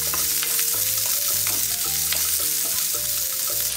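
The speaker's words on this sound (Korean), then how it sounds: "마늘이 노릇하게 익으면 양파와 당근을 넣고 볶아줍니다." Onions and carrots sizzle and crackle steadily in hot oil with garlic, with scraping stir sounds as the vegetables are tossed in the pan.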